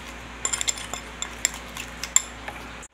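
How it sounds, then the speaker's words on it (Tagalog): A spoon clinks and scrapes against a container while it stirs an herbal whitening powder mixture. The taps are light and irregular, spaced across a quiet background. "Haluin lang natin siya ng haluin"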